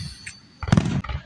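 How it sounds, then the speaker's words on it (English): Labor Day fireworks exploding outdoors, a brief cluster of sharp pops and crackling bursts after a quiet moment, recorded with rough, distorted sound. "Let's see if anybody wants to watch fireworks."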